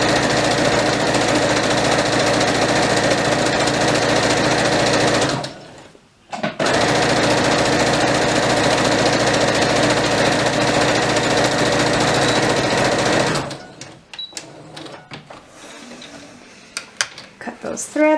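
A sewing machine stitches a seam on a toddler's elastic-waist dress with a loud, steady mechanical whir, pausing briefly for back stitches, then running again before stopping and giving way to scattered handling clicks.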